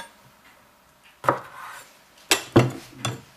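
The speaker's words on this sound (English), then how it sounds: "Actually, I'll take one slice and then just cut it in half." A knife cuts a tomato slice on a board with a few soft, separate thuds and knocks, close and fairly quiet, with near-silence between the strikes.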